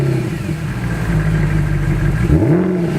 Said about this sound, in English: this car does feature one of the best startup noises in the business